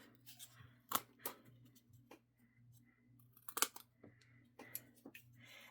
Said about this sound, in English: So I'm just cutting this kind of in a curve.